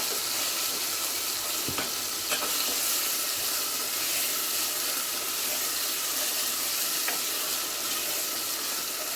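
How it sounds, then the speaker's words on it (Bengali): Chicken fries in a pan with a dense, continuous hiss of oil that stays loud and even throughout, broken by a few faint clicks of stirring and no voices. "চিকেনটা আমার ভাজা ভাজা হয়ে গেছে"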